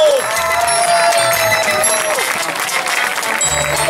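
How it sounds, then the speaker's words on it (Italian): Audience applause and cheering from a crowd at a camping village entertainment show, loud and sustained throughout, with a voice speaking over it near the start. "un grandissimo applauso al nostro capo animatore, Fabio Becio!"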